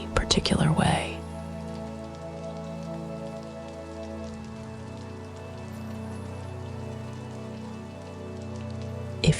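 Rain falling on window glass, a soft, steady patter that continues throughout, with a low hushed voice and a warm tonal drone underneath, plus a brief louder burst at the start.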